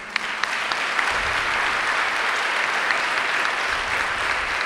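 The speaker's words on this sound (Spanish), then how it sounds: "vamos a recibirlo con un aplauso." Steady applause from a church congregation welcoming a person to give testimony, dense, even clapping filling the room at constant loudness throughout.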